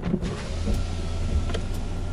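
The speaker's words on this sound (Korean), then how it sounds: "창문 내려볼게요." A Mercedes-Benz E-Class power window motor whirs steadily as the window lowers, a close mechanical hum with a faint clunk near the end.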